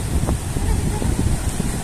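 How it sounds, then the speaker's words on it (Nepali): Gusty mountain wind on the trek to Tsho Rolpa lake in Nepal buffets the microphone in a low, rumbling roar that rises and falls in quick pulses. "ओहो दामी हावा लाग"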